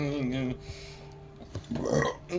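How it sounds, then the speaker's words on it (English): A burp sounds once near the end, low and close, with talking just before it and overlapping it. "Let me just toss that burp over there."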